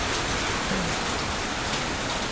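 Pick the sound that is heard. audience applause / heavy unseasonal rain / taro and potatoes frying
heavy unseasonal rain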